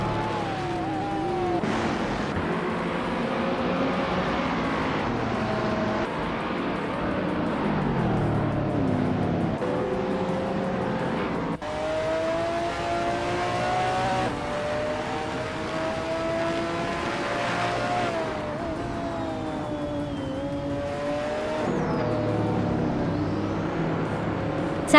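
Race cars in a racing video game, with continuous engine drone and rising and falling revs as cars pass and jostle, loud and steady throughout with no voices.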